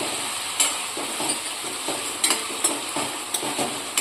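A spoon stirs potatoes with asafoetida in a sizzling frying pan, with scraping strokes every second or so over a constant crackle.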